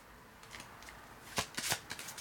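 Playing cards shuffled and dealt one at a time, a soft papery riffle followed by several crisp slapping flicks close by, with no talking.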